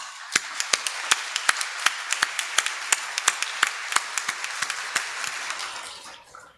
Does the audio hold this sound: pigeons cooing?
no